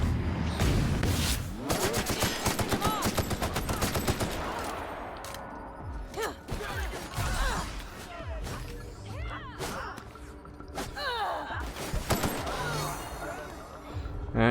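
Gunfire in a shooting fight in The Outer Worlds: rapid bursts and volleys of shots, loud and close, with crashes and impacts, mixed with voices talking over the battle.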